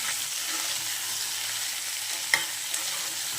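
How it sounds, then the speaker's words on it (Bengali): Potato and cauliflower pieces fry in oil left over from frying fish, giving a close, even sizzle with one sharp utensil clink partway through. "এদিকে দেখো ফুলকপি আলুটা একটু লাল লাল করে ভেজে নেবো"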